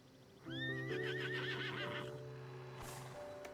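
Horse whinny from the Star Stable Online video game, one loud, close, wavering neigh over a sustained game music tone, followed by a faint hoof clop as it fades, with no speech.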